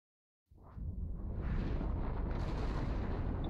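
Fleet weapons fire in the space game Eve Online, a Harbinger fleet engaging an Athanor structure: a dense, sustained roar of booming shots that starts abruptly and builds into a continuous rumbling barrage.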